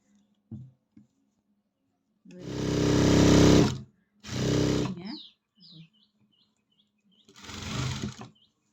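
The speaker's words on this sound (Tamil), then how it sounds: "இந்த சைடு ஸ்டிச்சிங் போட்டு முடிச்சாச்சுங்க" A sewing machine stitches the side seam of a salwar pant in three separate bursts of fast, close motor whirring, with short quiet pauses between runs.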